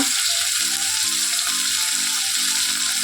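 Tomatoes fry with salt in a pan in a steady, close, broadband sizzle that never lets up, with a faint low hum under it and no one talking.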